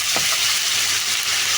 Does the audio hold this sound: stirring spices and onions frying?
yes